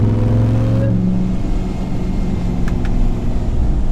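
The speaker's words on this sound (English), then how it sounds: "just enjoy the nice sound of a supercharged V8 in front of you" The supercharged V8 engine of a 2021 Ram TRX pickup rumbles inside the cab and briefly rises in pitch as it revs, then settles into a steady drone. There is no talking over it.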